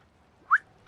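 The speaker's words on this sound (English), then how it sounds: "Don't whistle at him." A short rising whistle in Fallout 4's Far Harbor add-on, a single bright chirp of about a tenth of a second, fairly clear over quiet game ambience.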